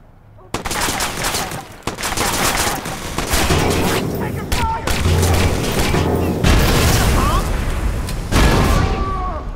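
In Watch Dogs, a grenade blast and bursts of gunfire rattle in rapid, loud volleys with booming impacts, while players talk excitedly over the fighting.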